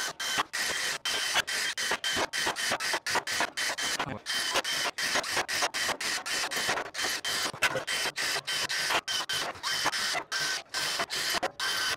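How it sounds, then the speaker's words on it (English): A Milwaukee step drill bores holes through the metal wall of a burn barrel, giving a dense, harsh grinding chatter broken into rapid rhythmic pulses that runs steadily throughout. "I got a Milwaukee step drill."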